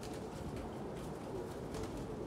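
Cumulet pigeons coo softly, with faint, low, repeated calls rising from a quiet background hiss.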